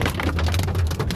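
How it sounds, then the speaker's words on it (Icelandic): Heavy hail pelting a vehicle: a dense, continuous clatter of hard impacts at close range, loud and unbroken, with no voices. "Það er brjálað haglél hérna."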